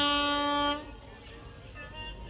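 A train arriving at a busy station sounds a loud, sustained horn tone that cuts off after under a second, leaving a low rumble of the train and the crowd.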